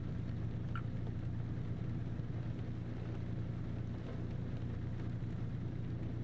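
Steady low rumbling rain in the video game American Truck Simulator with a constant hiss, unbroken and even for the whole stretch, no voices.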